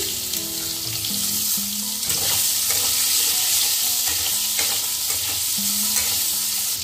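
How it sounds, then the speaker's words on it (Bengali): Potatoes fry in hot oil left from frying fish, with a steady sizzle punctuated by clattering stirs of a utensil against the pan; no voices. "আলুগুলো একটু ভাজা হয়েছে"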